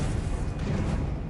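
A Confringo fire spell detonates in the Hogwarts Legacy video game, a short, loud booming blast with a heavy low-end rumble lasting just over a second.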